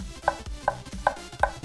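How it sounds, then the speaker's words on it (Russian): A knife cuts garlic on a board while salo is being prepared for a brine: four crisp, evenly spaced chops, close and fairly quiet, with no talk. "поэтому нарезаем еще чеснок"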